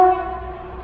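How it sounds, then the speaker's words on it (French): A train horn sounds briefly and loudly at the start, then fades to a sustained tonal tail, heard beside a parked Opel Corsa B. "Ça, c'est un train."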